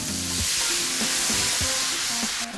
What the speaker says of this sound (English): The white wine deglazes the pan and brings all those beautiful flavours together